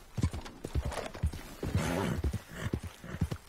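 Galloping horse hoofbeats while riding in Red Dead Redemption 2, a steady rapid clip-clop rhythm up close with a snort or whinny partway through.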